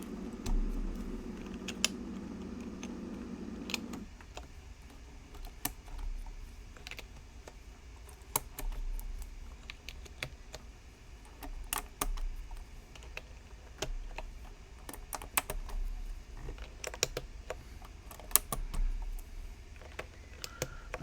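Fast typing on a custom mechanical keyboard built with Densus and KLC parts in an Ingot66/FC660C-style case, a close, continuous run of crisp key clacks with a low hum at the start.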